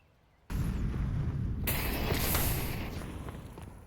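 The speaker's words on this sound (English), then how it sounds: "The nade comes down, and Dotla takes a bunch of damage." A grenade blast in a Counter-Strike match bursts in abruptly and loud, then a second sharp crack follows, leaving a long rumbling, slowly fading roar.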